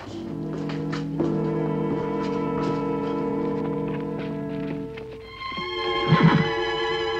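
A horse gives long, loud whinnies with a rising and falling, shaky tone, a first drawn-out call followed by a second higher one, fairly close and alone without talk.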